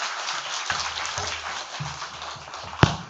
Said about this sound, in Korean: 큰 박수로 맞아주시겠습니다.